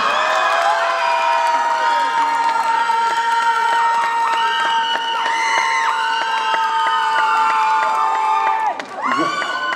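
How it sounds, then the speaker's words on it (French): A crowd at a cosplay contest in Lorient cheers, whoops and shouts loudly and continuously, with sustained high-pitched screams and applause filling the room before briefly dipping at the end. "Oh, ça s'applaudit très très fort, ça."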